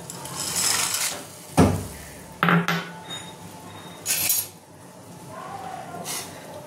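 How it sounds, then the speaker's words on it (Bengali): A spoon stirs pasta in a pot of boiling salted water with a little oil, giving several sharp metallic clinks and scrapes against the pot in irregular bursts, close and fairly loud. "পাস্তাটাকে নাড়বো, নাহলে নিচের অনেক সময় লেগে যায়"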